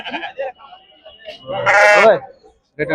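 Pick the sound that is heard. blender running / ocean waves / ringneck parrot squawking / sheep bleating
sheep bleating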